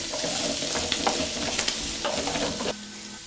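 Chopped garlic hits hot oil in a pan with a bright, loud sizzle and stirring scrapes, close up, the hiss dropping off sharply near the end.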